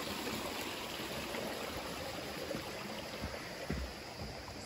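Small stream near a campsite on the Appalachian Trail in Connecticut, flowing into the Housatonic River: a steady, close, broadband rush of running water, continuous and alone with no voices.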